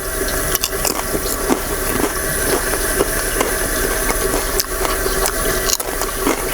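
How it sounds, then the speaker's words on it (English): Potato skins frying crispy in hot oil on a camp stove during car camping, giving a steady, dense crackling sizzle with small pops throughout, close and fairly loud. "delicious little potato skins. Take a listen. Nice and crispy."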